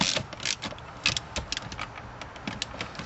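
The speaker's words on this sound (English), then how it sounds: "We now want to tighten this front bolt." A wrench tightens the front bolt of a solid shifter in a B6-B7 Audi A4/S4 console. Quick ratcheting clicks and small metallic rattles come in an irregular, close-up run with no speech.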